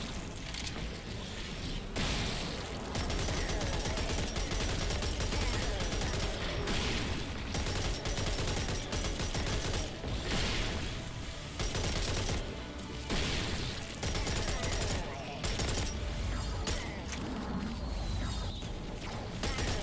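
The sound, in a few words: assault rifle and grenade fire in the video game Serious Sam 4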